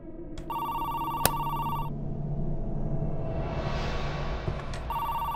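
Telephone bell ringing in an apartment, two bursts of electronic trills separated by a pause, fairly close and clear over a steady hum of room noise.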